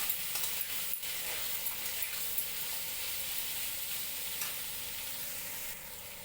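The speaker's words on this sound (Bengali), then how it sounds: "এখন আমি ছেড়ে দিব পনিরগুলো। ভালো করে এটা কষিয়ে নিতে হবে।" Paneer being stir-fried in a pan, a continuous broad sizzling hiss with light scraping stir strokes near the start, steady and moderately quiet, no talking.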